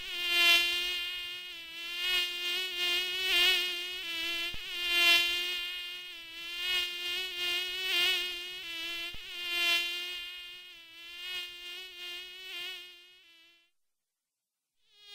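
A mosquito whines in a thin, high, sustained buzz that wavers in loudness as it moves closer and away, running almost continuously before cutting out near the end.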